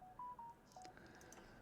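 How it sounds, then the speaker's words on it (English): A phone sounds a short run of clear electronic tones, several steady beeps spaced unevenly over a quiet background, faint and alone with no talk. "My phone ain't shutting up."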